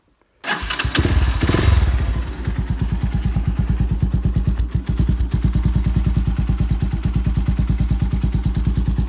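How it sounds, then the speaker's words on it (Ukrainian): A Viper F2 motorcycle engine starts with a rising revving burst, then settles into a steady, rapid idle putter from the exhaust, close and loud. "Звук вихлопу теж класний."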